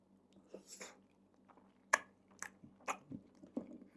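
Close crunchy chewing and biting of fried fish noodles dipped in tamarind sauce, several distinct bites and crunches spaced over a few seconds against a quiet background, with no talking.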